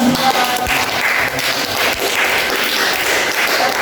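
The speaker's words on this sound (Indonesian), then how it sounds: "kita kasih applause untuk kelompok 2" A classroom audience applauds a presenting student group, dense continuous clapping from many hands, loud and close throughout.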